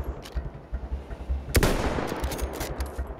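Gunfire in the World War I shooter Battlefield 1: a rapid rattle of shots with one louder sharp blast midway, followed by a dense burst of firing, close and loud.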